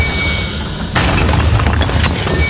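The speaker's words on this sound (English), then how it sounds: "There's a huge compactor that could swallow you whole." A huge trash compactor grinds in a video game's trash room, a low hum suddenly swelling into a loud, sustained booming rumble that carries on steadily to the end, with no voices.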